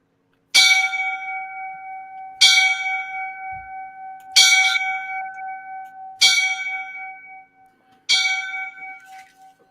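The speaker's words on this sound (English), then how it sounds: "I will give them the 5 bells because they are line of duty." Five loud, ringing memorial bell strikes for firefighters killed in the line of duty, spaced evenly about two seconds apart, each tone decaying slowly before the next.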